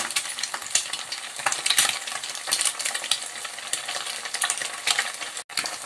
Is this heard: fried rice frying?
yes